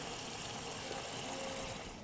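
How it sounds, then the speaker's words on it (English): Water poured over chicken in a soup pot, a steady gushing, bubbling stream running close and continuous for a couple of seconds, with no talk. "then just carefully cover it with water"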